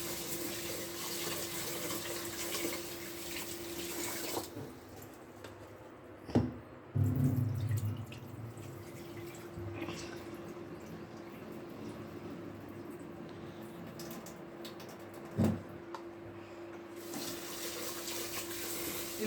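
Four glasses of rice are washed in water by hand before cooking in an electric cooker, making steady swishing and splashing with a few louder sloshes, close and alone without talk.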